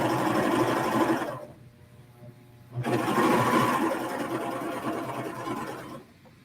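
A Pfaff serger running with its built-in circular attachment whirs in steady bursts, stopping briefly for about a second before starting again at full speed, then easing off near the end.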